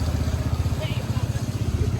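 A motorcycle engine runs steadily while riding with passengers aboard, a low rhythmic pulsing throb that stays close and continuous under background noise.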